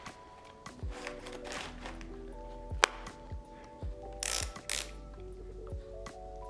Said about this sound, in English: One BOA dial, typical push in, twist to tighten